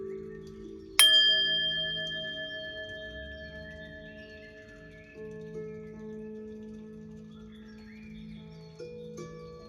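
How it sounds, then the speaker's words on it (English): A singing bowl struck once, ringing out with a bright, clear tone that slowly fades over several seconds, close and alone, with faint low hum and a softer touch near the end. "I'm going to ring the singing bowl, clear your energy, and let's get it."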